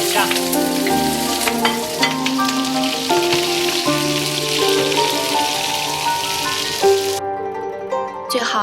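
Prawns hit hot oil in a wok with ginger, scallion and garlic, setting off a loud, continuous hissing sizzle that runs for about seven seconds over background music before cutting out.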